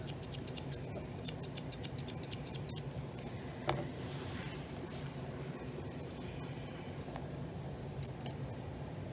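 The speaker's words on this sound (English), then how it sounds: "The thinning scissors just give you a less of a blunt look than if you used your regular scissors" Quick, repeated metallic snips of thinning scissors cutting an English Springer Spaniel's fur close by, with a brief clink in the middle, over a low steady background hum.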